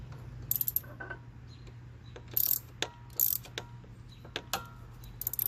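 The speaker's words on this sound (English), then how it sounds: "You can hold it with a regular wrench and ratchet this piece off." Ratchet wrench clicking in short bursts while loosening a front-end part on a 2018 Jeep Compass, the rapid metallic ticks close and fairly loud over a steady low hum.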